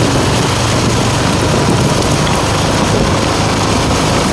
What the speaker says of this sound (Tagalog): bumataw ang ulan